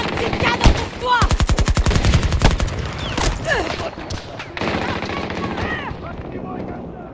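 Rapid machine gun bursts and gunfire in the video game Battlefield 2042, loud and repeated, with a voice calling out briefly among the shots.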